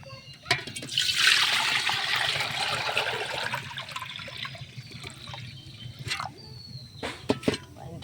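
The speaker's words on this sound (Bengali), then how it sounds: "খিচুড়ি রান্নার জন্যে হাঁড়িতে এখন পানি দিব।" Water gushes into a cooking pot for khichuri, a loud splashing pour lasting about three seconds that thins to a trickle, followed by a few sharp clinks and taps.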